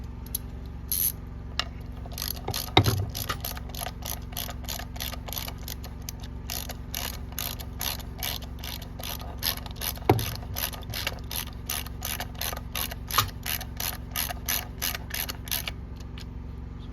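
A wrench ratchets bolts snug while a Cub Cadet creeper gear is installed, giving long, regular runs of close, crisp clicks over a low steady hum, with a couple of louder knocks.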